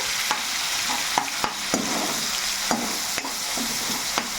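Onion paste for a mutton fat curry frying in a pan, a steady sizzle broken by regular scrapes of a stirring spoon roughly every half second, with no talking.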